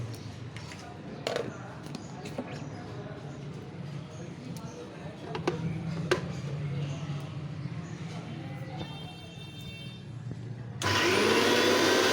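Pointed gourd seeds are ground into paste in a mixer grinder, which whirs on loudly and steadily near the end after a long quieter stretch with light handling noises and some talking.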